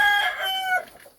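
A gamecock rooster crows close by, a loud, strained, tonal call that fades out within about a second.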